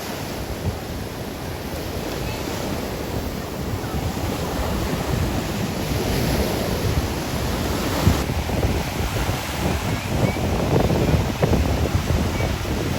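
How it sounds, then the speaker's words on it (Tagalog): Ocean surf rolling in steadily at a La Union surfing beach, a dense continuous wash of breaking waves with wind rumble against the microphone, no voices. "Magulo yung alon eh oh."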